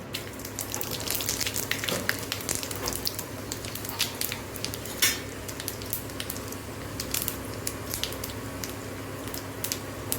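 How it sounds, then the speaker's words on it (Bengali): Bay leaf, dried chilli and mixed whole spices sizzling in hot oil for a Bengali fish curry, a steady crackling fry with scattered sharp pops, close and alone. "তেলটা গরম হোক, এখন আমি তেজপাতা ফোড়ন দিব, একটা শুকনো লঙ্কা,"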